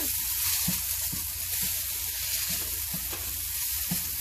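Cauliflower rice with onions and garlic frying over medium heat in a pan, a continuous close sizzle broken by regular scraping stirs about every half second, with no voices.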